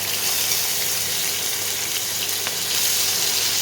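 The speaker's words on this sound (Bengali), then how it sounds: "টমেটোটাকে একটু ভাজা ভাজা করতে হবে।" Tomato paste sizzles in hot oil in a home kitchen during the making of a spicy fish curry, a loud, even hiss that runs continuously throughout without any voices.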